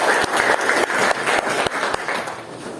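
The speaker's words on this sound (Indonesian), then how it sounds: "tepuk tangan kepada audien dan penjawab." Applause in a classroom from students acknowledging the audience and a student who answered a question, a brief burst of dense, steady clapping with a few sharper individual claps, close and fairly loud.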